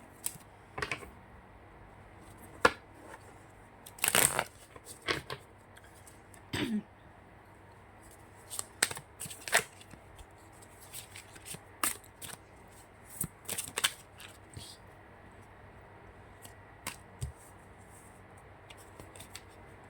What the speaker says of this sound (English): Let me just shuffle that again.